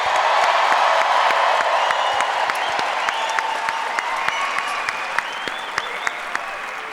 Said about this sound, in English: please give a huge round of applause to tonight's special guest